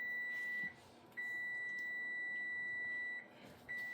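Steady electronic beeping from an oven timer while baking sourdough: long sustained high-pitched tones broken by short pauses, fairly clear over a quiet room.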